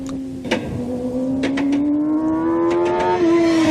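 A motorcycle engine rising steadily in pitch as the rider rolls on the throttle smoothly out of a turn, loud and close, one continuous climbing drone with a brief gear-change step near the end.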